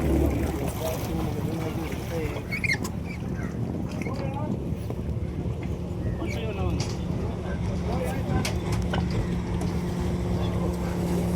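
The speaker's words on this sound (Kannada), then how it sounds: "ಗ್ರೂಪಲ್ಲಿ ಬೋಟಿಂಗ್ ರೈಡ್ ಹೋಗ್ತಾ ಇದ್ದೀವಿ." Group boat ride on the lake at Ooty, a steady motorboat engine drone and water wash running throughout at moderate level, with people talking over it.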